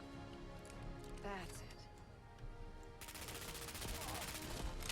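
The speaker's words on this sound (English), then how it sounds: "that's a full mag dump there, and not a kill to show for it" A G3 rifle in Fallout 4 empties a full magazine: a rapid, continuous burst of automatic gunfire in the last seconds, with a voice talking over the game sound.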